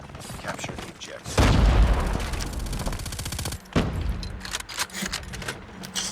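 Rapid bursts of MG82 machine gun fire in Call of Duty Mobile, loud and sustained, broken by short pauses and mechanical clicks, with a voice talking over parts of it.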